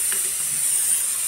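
Bay leaf and whole garam masala sizzling in hot oil, a steady, bright hiss that stays even and close, with no voices.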